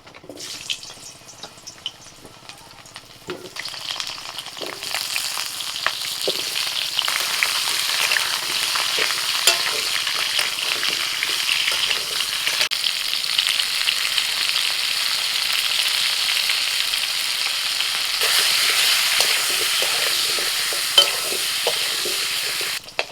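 Potatoes fry in mustard oil in a wok, a loud, close, continuous crackling sizzle that swells after a quieter start and keeps up with occasional spoon clinks.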